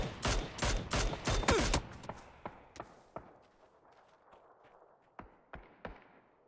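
Gunfire in the video game PUBG: a quick burst of several loud shots, followed by scattered single shots and fainter, more distant reports spaced irregularly, with no talk over them.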